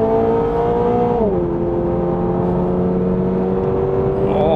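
A Toyota GR86 / Subaru BRZ prototype sports car with an automatic transmission at full throttle above 140 km/h, a loud steady engine drone from inside the cabin that drops in pitch at an upshift, then climbs again.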